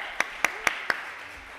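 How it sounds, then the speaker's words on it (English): Four sharp hand claps ring out in an even, quick rhythm, then stop, leaving a quiet room. "Let's give him a clap."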